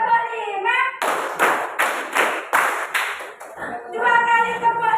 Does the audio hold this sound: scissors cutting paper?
no